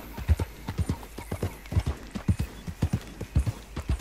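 Steady clip-clop of horse hooves at a walking pace in the video game Red Dead Redemption 2, evenly rhythmic and fairly close, with no voices.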